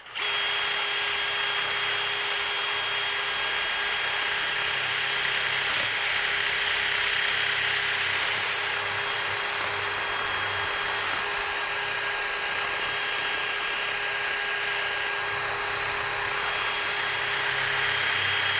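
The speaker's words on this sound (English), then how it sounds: "the best way to do that is usually wire wheel on a drill" A wire wheel spins on a power drill, scrubbing rust off brake parts in a continuous, loud, high-pitched whir that holds steady throughout with no talking.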